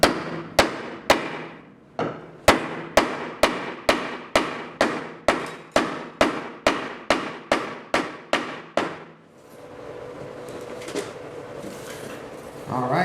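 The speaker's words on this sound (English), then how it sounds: "we're going to hammer this one in" A hammer drives T-nuts into a wooden barrel with about sixteen crisp, evenly spaced strikes, each ringing briefly, then the hammering stops and quieter handling noise follows.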